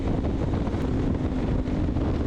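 Strong wind buffets the microphone of a rider on an open expressway with no barriers, a loud, continuous rumbling roar that fills the whole clip without any voices.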